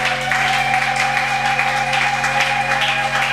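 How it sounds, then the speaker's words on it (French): A church congregation claps steadily, with applause mixed with acclamations over a sustained tonal hum from the sound system, continuous and fairly loud. "Est-ce que Dieu peut se réjouir par tes acclamations?"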